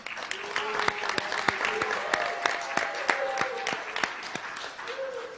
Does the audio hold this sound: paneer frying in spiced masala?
no